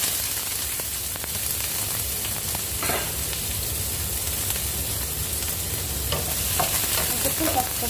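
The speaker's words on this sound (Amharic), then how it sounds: "ዘይቱ ሲግል ሽንኩርት እንጨምራለን" Onions frying in hot oil in a home kitchen while making a chicken dish, a steady close sizzle and crackle running throughout with occasional stirring scrapes and no talk.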